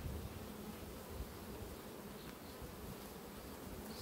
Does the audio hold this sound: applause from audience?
no